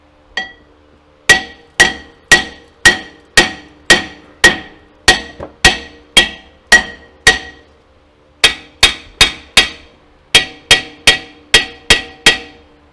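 A small hammer striking brake parts during a front brake job, ringing metallic blows delivered in a steady rhythm, about two dozen sharp hits close up, with one short pause partway through.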